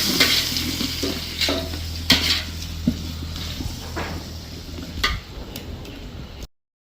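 Onions and tomatoes fry in a pan with a continuous crackling sizzle, broken by occasional sharp spatula scrapes and taps. The sound is close and steady, then cuts off abruptly near the end.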